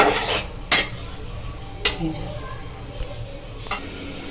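Chicken and spices stir-fried in a pan over a gas flame, with a low sizzle under three or four sharp clanks of a metal spoon or spatula against the pan.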